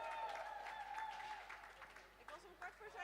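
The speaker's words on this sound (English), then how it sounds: "I know it's late, but let's cheer, y'all" Crowd applause and cheering at a roller derby tournament game, a steady wash of clapping heard at a distance, with people talking over it.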